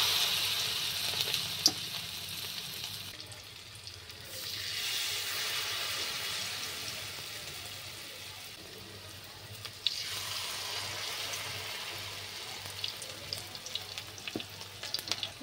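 Battered onion rings deep-frying in hot oil in a kadai on a stove, a steady broad sizzle that holds for the whole stretch with a brief softer dip and occasional sharp crackles and pops.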